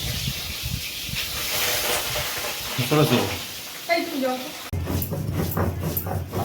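Pabda fish fry in hot oil with a steady loud sizzle and crackling spatter, and a voice talks briefly over it partway through.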